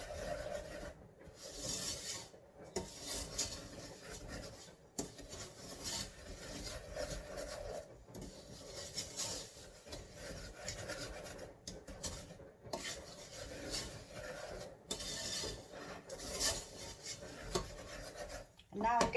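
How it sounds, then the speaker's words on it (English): Sugar being stirred into raspberries in a pan over gentle heat, a steady scraping and rasping of the spoon in continuous strokes with brief pauses, close and moderately loud. "I've put in the sugar and I'm going to stir it in while it's heating gently"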